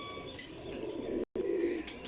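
Golden pigeons, a high-class lot, coo softly in short calls at close range over a steady background hum, with a brief dropout midway.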